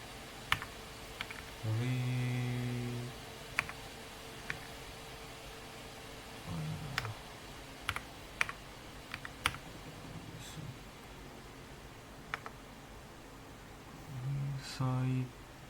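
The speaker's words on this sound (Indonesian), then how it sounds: "Dan kita ketikkan di sini clear" Keys on a computer keyboard are tapped in short scattered bursts, some single clicks and a few quick runs, fairly close, while a person's voice murmurs briefly in places.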